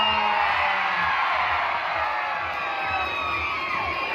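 A large crowd at a charity fashion show in a Bangkok shopping mall cheers and whoops loudly and continuously, with shouting voices blending into a sustained roar.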